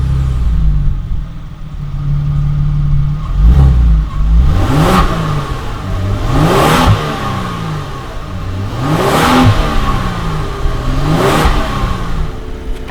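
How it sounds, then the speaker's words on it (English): A Kia Stinger's V6 engine revs repeatedly in a rhythmic series of rising bursts, loud and close, with no talking over it. "It's just going to probably almost create a dirty V6 noise."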